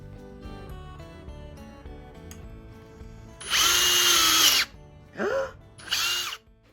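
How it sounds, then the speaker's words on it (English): An electric drill whirs in three bursts while drilling pilot holes in wood, one long run followed by two shorter ones, close and loud over a quiet background. "make sure to drill a pilot hole before adding the screws"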